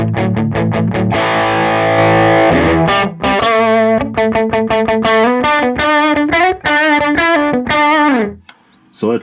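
Electric guitar through a Digitech RP1000 with a clean lead boost engaged, loud picked notes and sustained lines ringing with a slightly driven, effected tone.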